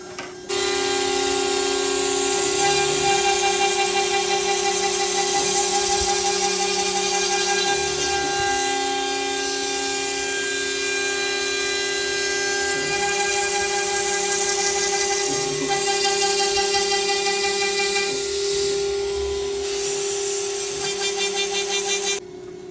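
A CNC machine cuts out pieces for wind flags, giving a loud, steady high-pitched whine with sustained tonal harmonics, shifting slightly as the cutter moves, continuous for the whole stretch.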